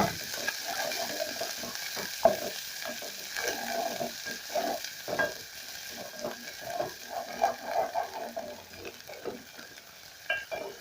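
Garlic and coriander stems fry in a pan with a steady low sizzle, broken by frequent scraping stirs and clicks of a utensil against the pan, close up with no talking.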